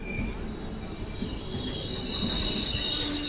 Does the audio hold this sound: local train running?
yes